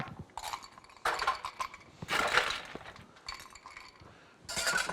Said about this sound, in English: Put a scoop of ice in there as well.